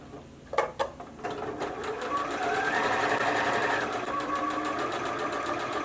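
A sewing machine stitches along the edge of fabric for a baby hat: a few sharp clacks at the start, then a steady fast mechanical whir, loud and close, with no talking.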